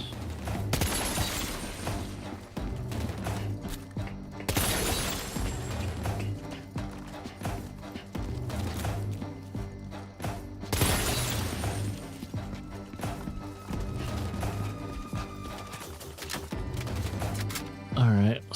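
Gunfire from shooting at targets in the Death Stranding 2 video game, with repeated bursts of shots and mechanical clatter over a steady game soundscape, fairly loud throughout.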